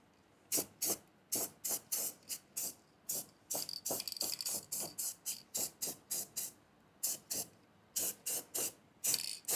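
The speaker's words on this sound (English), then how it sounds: "recoat it just real quickly with a can of this satin black from Krylon" A can of Krylon satin black spray paint hisses in short, sharp bursts of paint onto the engine bay of a 1974 Plymouth Duster. Roughly two dozen quick sprays come in a steady rhythm, close but fairly quiet, with no talking.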